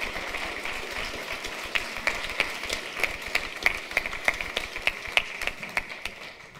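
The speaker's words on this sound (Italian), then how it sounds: "Fai un applauso di lode al Signore." A church congregation claps together during a worship service, a full room of hands settling into a steady, rhythmic beat that grows more distinct toward the end.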